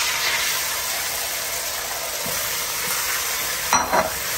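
Eggs cooking in a hot pan, worked with a rubber spatula: an even, moderate sizzle fills the clip, with a few soft scrapes and a brief louder shuffle of the spatula just before the end.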